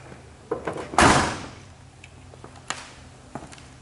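A 1967 Chevrolet Camaro's passenger door clicks open, then shuts with a solid thunk, followed by a few lighter taps and clicks nearby.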